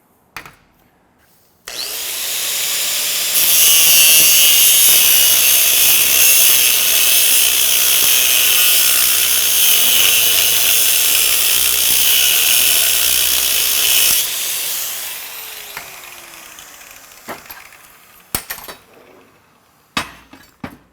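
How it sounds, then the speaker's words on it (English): A cutoff wheel grinds steadily through a steel Halligan tool, a harsh, loud, high-pitched shriek sustained for about twelve seconds. Quieter spin-up comes before it, and a spin-down with a few scattered clicks and knocks follows. "But I'm going to work this right here initially with a cutoff wheel."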